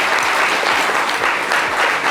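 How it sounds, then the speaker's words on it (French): A French television studio audience applauds in a loud, dense wash of clapping that holds steady for a couple of seconds, close and full. "applaudissez, félicitations"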